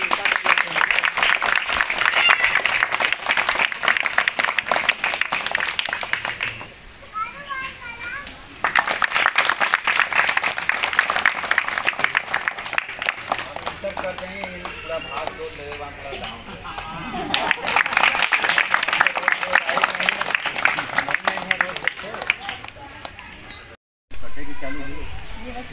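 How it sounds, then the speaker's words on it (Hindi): Children clap at a community welfare society gathering announcing new sewing, beauty parlour and coaching schemes, with loud bursts of applause alternating with quieter stretches of chatter and children's voices, and a short break near the end. "बच्चों ताली बजाइएगा।"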